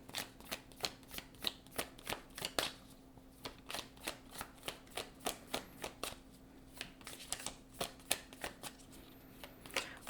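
A deck of Moonology oracle cards being shuffled by hand, a steady run of soft, close riffling flicks repeating at a regular rhythm with no talking.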